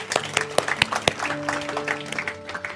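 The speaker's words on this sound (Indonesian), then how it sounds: "Tepuk tangan, boleh." Scattered hand clapping from a church congregation during an Indonesian sermon, a loose patter of claps at close range with sustained tones sounding faintly underneath.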